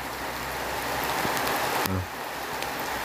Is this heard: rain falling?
yes